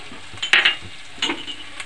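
Ground spices added one at a time to hot oil with fried ginger for a Bengali egg and potato curry, sizzling in short bursts with a couple of brief louder crackles as they hit the pan.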